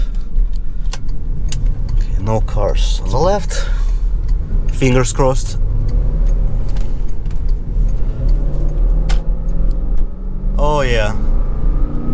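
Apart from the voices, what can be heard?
Porsche Cayenne 4.8L pulling onto the road and accelerating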